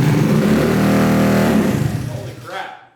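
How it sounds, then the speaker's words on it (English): A Honda Ruckus scooter fitted with a 171cc big bore kit fires up for the first time, its engine revving loud and close with a steady harmonic drone for about two seconds before winding down. "All right, 171cc big bore kit. First startup."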